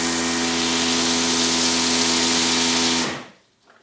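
A Greenworks 80V battery pressure washer spraying on turbo mode, producing a loud, steady hissing jet with a constant motor whine for about three seconds before it cuts off abruptly.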